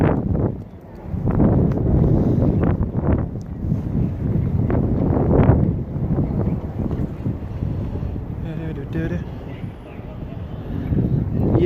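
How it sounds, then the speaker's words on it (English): Strong gusts buffet the microphone on a central London street, a loud rumbling roar that rises and falls continuously while someone speaks over it. "They call it a windy day."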